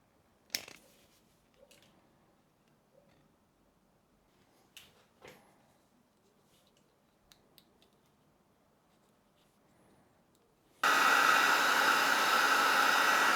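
A few quiet clicks and handling taps come first, then a heat gun starts up with a sudden loud, steady blowing roar while shrinking heat shrink tubing over wire terminals on a motorcycle exhaust dB killer wiring job.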